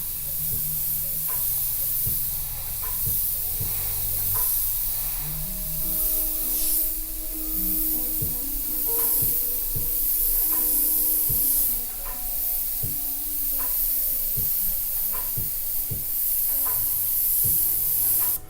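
Airbrush spraying paint onto a canvas during graffiti-style lettering, a steady close hiss of compressed air running throughout, with faint clicks and small shifts in tone over a quiet room.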